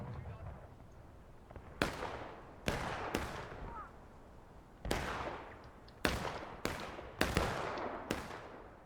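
Musket gunfire in a War of Rights shootout in a cornfield, a series of sharp loud cracks spaced irregularly, some close together, over a low battlefield rumble with a voice talking.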